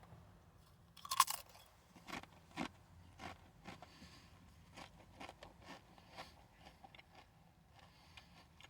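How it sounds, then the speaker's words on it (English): Tangy Ketchup Doritos tortilla chips being bitten and chewed up close, one loud crunch followed by a run of softer, irregular crunches over quiet room noise. "That might have been the most flavorful Dorito I've ever had in my life."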